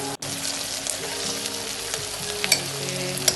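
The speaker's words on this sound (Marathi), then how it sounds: "कांदा फ्राय करणार आहे, छान ट्रान्सलुसंट होऊन चांगला गोल्डन थोडासा कलर आला की आपला कांदा रेडी होऊन जाणार" Onions frying in a pot for a chicken stew curry, a steady close sizzle with occasional stirring scrapes and a brief bump near the start, no voices.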